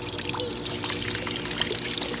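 Shower water running steadily in an animated cartoon, a continuous hissing trickle and spray at close range with no talking.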